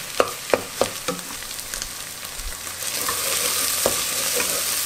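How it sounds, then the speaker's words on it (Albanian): Chicken is dropped into a pan of softened onions frying for Albanian chicken yahni: a few sharp clacks and stirring knocks come first, then a steady hot sizzle builds and holds. "qepa është duke u fërgu, edhe është zbut, ja ka fillon me u skuq, të e shtojmë pulën"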